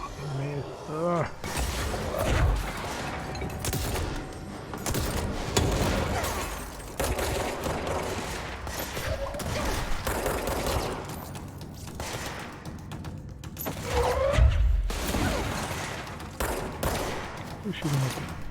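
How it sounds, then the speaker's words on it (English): Enemy gunfire in the action game Control crackles in repeated bursts and volleys throughout, with heavy impacts and booms mixed in. A player talks over the shooting at times. "Somebody's shooting at me."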